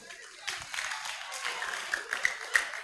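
Vocations camp participants clapping for themselves, a scattered round of applause that swells after a brief quiet start, moderately faint and somewhat distant, with a few sharper individual claps standing out toward the end.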